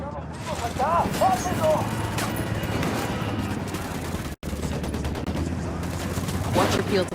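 Enemy gunfire from a parking area in Ghost Recon Wildlands, a steady rattle of overlapping shots at moderate loudness with a brief cut partway through, while voices speak over it.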